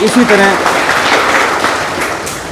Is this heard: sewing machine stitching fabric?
no